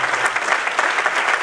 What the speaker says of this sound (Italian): Io direi di prolungare l'applauso e fare un bel applauso collettivo a tutti loro.